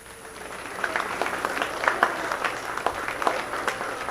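Applause from a county fair crowd for junior fair dairy show exhibitors, a soft, fairly distant patter of clapping that holds steady for a few seconds with scattered sharper claps.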